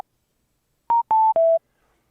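Three short electronic beeps from a Cardo Packtalk Edge motorcycle intercom as the group is muted, two even tones then a slightly lower, longer one, clean and close with silence around them.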